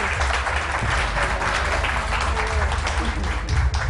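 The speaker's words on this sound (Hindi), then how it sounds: "तालियां भाभी के लिए भाई।" Sustained applause from a TV cooking show studio audience, steady and fairly loud throughout, with voices mixed in underneath.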